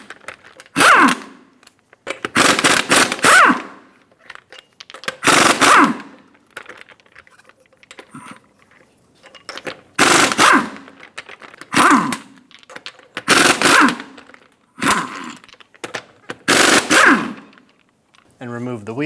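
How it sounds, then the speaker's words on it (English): An impact wrench with a 22mm socket zips off the lug nuts of a Ford Expedition wheel in a series of about seven loud, rattling bursts separated by short quiet gaps. "remove the 6 lug nuts."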